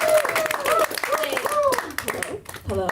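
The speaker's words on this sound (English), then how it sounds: "Keep clapping as she comes to the stage." Comedy club audience clapping and cheering as a comedian takes the stage, a steady burst of hand claps mixed with whoops and crowd voices, fairly loud and close.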